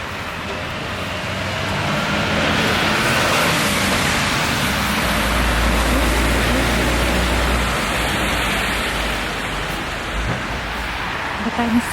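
Rain falling outside a cafe on a near-freezing day in the UK, heard as a loud, continuous broadband hiss with a low rumble underneath that swells slightly midway and holds steady.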